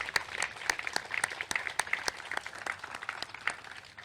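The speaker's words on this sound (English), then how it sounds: "And I think that deserves a round of applause." An audience at a ribbon cutting for a SpaceX Falcon 9 exhibit claps in a fairly sparse, uneven patter of individual claps, moderately distant and steady throughout.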